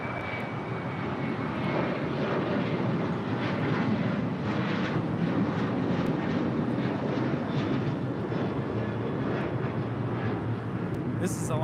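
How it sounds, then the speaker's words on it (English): Alaska Airlines jet departing LAX bound for Guadalajara, a steady broadband engine roar that holds loud throughout, with voices talking over it. "This is Alaska Airlines Flight 1418 departing to Guadalajara"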